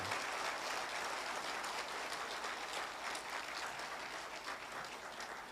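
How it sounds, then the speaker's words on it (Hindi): An audience at a Nagpur insurance agents' gathering applauds loudly, a dense, steady burst of clapping that fades slightly toward the end. "तो एक बार जोर से ताली बजाइएगा"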